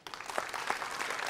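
A studio audience at a televised dance gala applauds, dense clapping holding steady and fairly loud across the whole short stretch.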